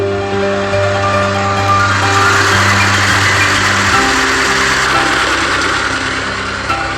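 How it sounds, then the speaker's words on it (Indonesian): A motor-driven pump drains a shrimp pond of about 1,500 square metres before harvest, its engine droning steadily and loudly with a shift in pitch partway through. "kita lakukan dulu penyedotan air dengan mesin sehingga memudahkan pengambilan udang"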